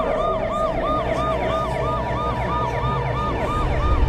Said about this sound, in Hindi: पुलिस की गाड़ी आकर रुकती है